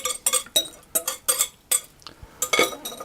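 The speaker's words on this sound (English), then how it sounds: "I'm going to mix that until it's just about combined" Raspberry muffin batter stirred by hand in a bowl, a spoon knocking and scraping against the sides in a quick, regular rhythm, close up with no talking.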